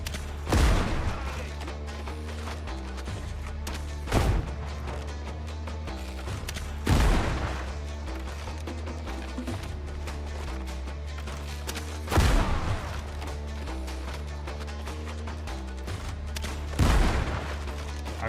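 Musket shots ring out in the pirate video game Windrose, five loud booming blasts spaced several seconds apart over a dense, steady game soundtrack.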